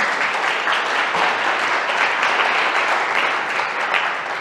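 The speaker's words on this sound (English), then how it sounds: "So let's give a big applause for that." Steady, energetic audience applause at a talk keeps a dense, even roar of many clapping hands throughout, loud and close, with no voices standing out.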